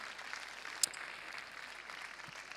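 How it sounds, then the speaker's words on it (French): Faint, distant applause from spectators at an international show jumping competition, greeting an Austrian rider, a steady wash of clapping heard from afar without speech. "je crois qu'on peut même redoubler d'applaudissements pour saluer Max Kuhner"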